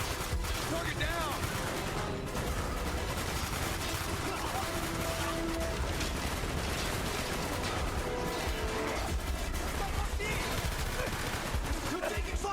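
Sustained gunfire and machine-gun bursts in the Wii version of the video game Call of Duty Black Ops, a constant loud battle roar with overlapping shots.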